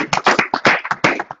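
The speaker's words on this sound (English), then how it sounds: "You have to give me a nice round of applause." A short, loud burst of close hand clapping, quick and slightly uneven, like a small group giving a brief round of applause indoors.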